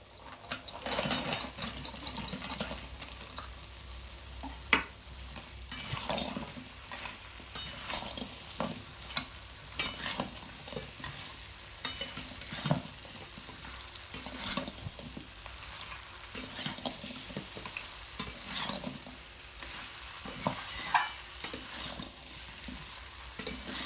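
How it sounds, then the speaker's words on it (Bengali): Fried chicken pieces stir and cook in a kadai for a dhaba-style kadai chicken roast, a soft continuous sizzle under repeated rhythmic scraping and clanking of a spatula against the metal pan, moderately close, with no talking. "এবার ভেজে রাখা চিকেনগুলো দিয়ে দেবো।"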